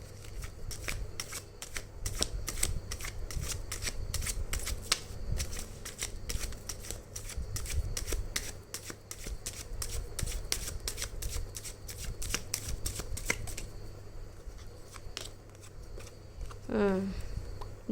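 A tarot deck is shuffled: rapid, close riffling clicks repeat steadily for several seconds and then stop as cards are drawn. Someone speaks briefly near the end.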